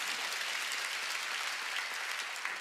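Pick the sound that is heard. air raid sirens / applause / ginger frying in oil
applause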